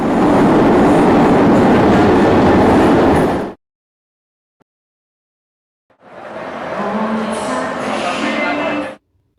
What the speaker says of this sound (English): These trams are incredibly useful connecting Milan's neighborhoods.